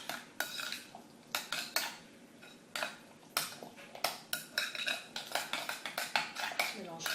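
A spoon stirs yogurt sauce with chives in a bowl, clinking steadily against the sides with quick, regular scrapes and taps, close and fairly loud.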